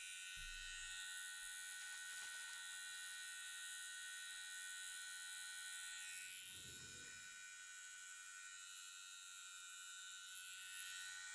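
A tattoo machine needle works on practice skin with a faint, steady electric buzz that holds throughout, with a few soft handling bumps and no talking.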